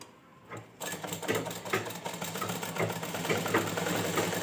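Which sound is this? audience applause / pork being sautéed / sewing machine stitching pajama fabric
sewing machine stitching pajama fabric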